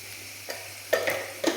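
Dried manathakkali berries fry in a pan while a spoon stirs them, producing three quiet scraping strokes over a faint, low sizzle.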